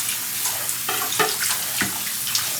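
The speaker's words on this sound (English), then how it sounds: "Carefully take our figure and just run it under the lukewarm water." Lukewarm tap water runs over an anime figure held under the faucet, a steady splashing rush with uneven spatters as the stream hits the figure, close and alone without talk.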